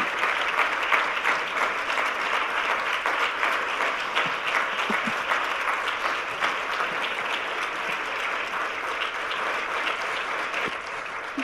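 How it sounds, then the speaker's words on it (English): A church congregation claps steadily to welcome a speaker at a sermon, a broad, even wash of applause that holds at a constant level throughout without talk. "Let us welcome her with all our soul and with a big round of applause."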